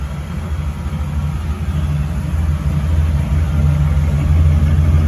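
A 1951 Chevy 3100 pickup with a swapped small-block V8 runs steadily nearby, a loud, even low rumble that holds constant without revving.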